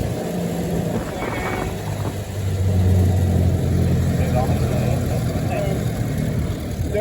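The engine of a 107-year-old car idles and runs steadily in first gear with a low, rumbling, even drone that swells slightly partway through, heard under people talking throughout.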